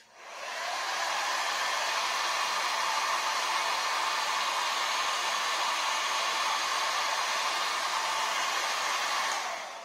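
A hair dryer blows steadily on a craft painting, a loud, even hiss that switches on, runs unbroken for about ten seconds, then cuts off, with no voices.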